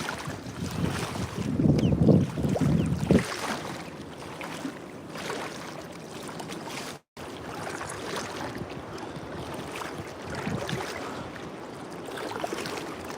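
Wind gusts across a river around a drifting fishing boat, with heavy rumbling buffets at first, then a steadier, softer rush of air and water that continues to the end.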